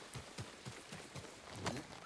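A horse galloping in the video game Ghost of Tsushima, a quick rhythmic clip-clop of hooves at moderate distance, fairly quiet, with no talking.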